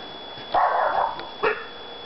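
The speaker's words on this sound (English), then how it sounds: "that's the neighbor's dog." A neighbour's dog barks outdoors in two short, sharp bursts separated by a brief pause, moderately loud and with no one talking over it.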